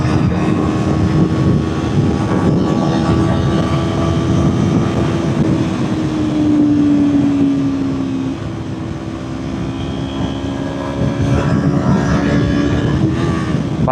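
A motorcycle engine drones at high revs during a top-speed run, a loud, continuous hum with a steady pitch that dips briefly and climbs again, heavy wind rush throughout and no talk.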